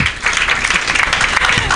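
A short burst of crowd applause at a youth development forum, many hands clapping densely and evenly for a speaker, with some murmuring voices mixed underneath.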